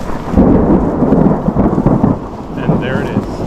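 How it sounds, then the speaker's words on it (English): Loud thunder rolls and rumbles continuously through a backcountry thunderstorm on a wilderness route in northern British Columbia near Mount Robson, with light rain pattering underneath and no voices. "now thunder and lightning is just roaring"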